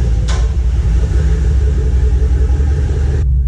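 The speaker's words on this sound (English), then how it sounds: "So we're gonna get the truck in the garage." A truck pulls into a garage with a steady low engine rumble and drone throughout, a brief brighter hiss near the start, and the sound cutting off sharply just before the end.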